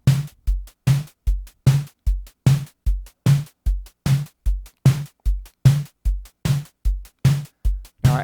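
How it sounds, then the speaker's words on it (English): Modular synthesizer kick and snare drums fired by sequencer gates alternate in a steady, even pattern, each a short, punchy hit with a quick decay, repeating cleanly and loudly with no other sounds. "I have a gate on the kick and a gate on the snare."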